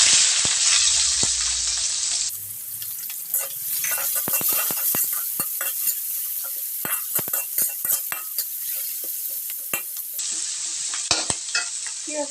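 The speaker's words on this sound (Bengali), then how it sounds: "এই পর্যায়ে আমি এই মাছ ভাজা আলু ভাজা তেলটার মধ্যে পেঁয়াজটুকু দিয়ে দিব" Onion added to hot oil already used for frying fish and potatoes, giving a loud, steady sizzle with scattered clinks and scrapes of a spoon stirring in the pan, and no voices.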